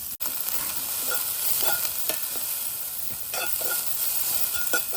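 Mustard seeds, onion, green chili and garlic fry in a pan, giving a continuous close sizzle with scattered pops and crackles, plus brief stirring scrapes, with no talking.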